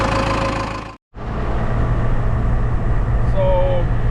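Cummins 4BT diesel swapped into a Chevy Tahoe, fitted with a dynamic timing spacer on its VE pump, droning steadily on the road with a low rumbling engine note and road noise after a brief cutout, a short whine near the end.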